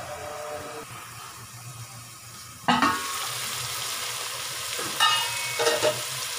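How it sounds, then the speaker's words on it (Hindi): Chicken pieces for pulao frying in a covered pan, a soft steady sizzle with a sharp burst as the lid or spoon disturbs it, then stirring scrapes and renewed crackling. "और चिकन को करेंगे दम पर फ्राई 2 से 3 मिनट के लिए।"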